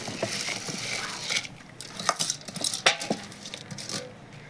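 Washed rice pours into a pot of boiling water while utensils clink and scrape against the pot in a close, busy patter of small impacts.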